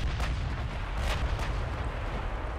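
Warships in Ultimate Admiral Dreadnoughts fire HE shells, producing loud, rolling booms of naval gunfire with several sharp reports over a continuous heavy low rumble.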